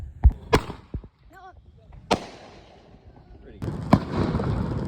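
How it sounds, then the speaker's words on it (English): Backyard Fourth of July fireworks for a neighborhood show: sharp, close bangs bursting one after another with crackling and whistling in between, ending in a dense rumbling stretch, while a few voices cheer faintly underneath. "This is all the fireworks that we did on 4th of July."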